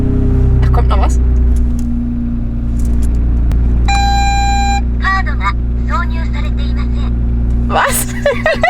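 BMW E46 M3 engine idling steadily nearby, a continuous low rumble throughout, with jangling keys, a short electronic beep and people talking over it.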